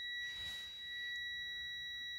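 A multimeter continuity tester holds a steady, high-pitched beep without a break while testing a magneto stator, a thin continuous tone over a quiet background hiss.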